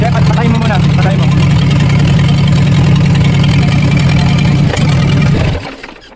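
A loud, rough backhoe engine with no exhaust pipe fitted runs steadily at idle with a harsh, unmuffled rumble, then cuts off and fades to quiet near the end.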